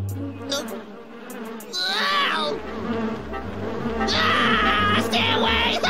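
Cartoon bees buzz in a swarm, a droning hum that rises and falls with swooping high whines over a steady background score, close and moderately loud.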